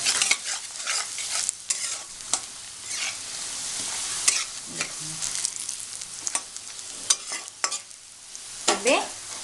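Onions fry in a pan with chili powder and turmeric for an Odia coconut kofta curry, a soft steady sizzle broken by frequent scraping stirs of a spoon, close and without talk.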